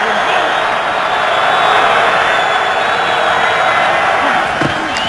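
Home crowd at a Chiefs NFL game against the Bengals roars as a broad, steady wash of stadium noise, loud and sustained without clear peaks, with broadcast commentary running over it.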